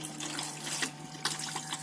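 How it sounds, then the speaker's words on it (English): The electric flush of a Compass Corona 462 campervan toilet sends out a steady hiss of rushing water, with a few brief splashy surges and a faint pump hum underneath. "Demonstrate the electric flush on the toilet."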